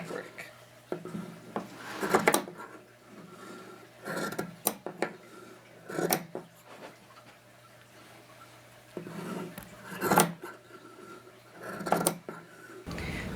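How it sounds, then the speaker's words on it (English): Scissors cutting fleece fabric for a no-sew tied blanket, heard as repeated close rasping snips and rubbing in irregular bursts, several louder cuts spaced through the stretch, with no talking. "Now we have cut all the way around the fabric"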